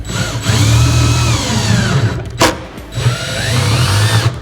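Cordless drill on a low clutch setting driving screws into the end panels of a NorthPoint 3-drawer base cabinet, two sustained whirring runs broken by a brief sharp clutch click near the middle, loud and close with no talk.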